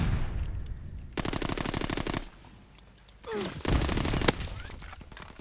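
Automatic weapon fire in Call of Duty: WWII multiplayer rattles in two loud sustained bursts separated by a short quieter gap, with a sharp swooping sound before the second burst.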